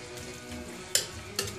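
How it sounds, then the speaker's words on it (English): Chili with beans in a pot being stirred, with a steady background sizzle and two sharp scraping clanks of the spoon against the pot near the end. "Give that a stir."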